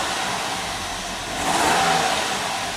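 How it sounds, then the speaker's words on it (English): A 2003 Ford Ranger's 2.3 engine runs with a misfire, a steady close rough drone that swells briefly louder midway, with no talk over it. "But anyway, it's got a misfire."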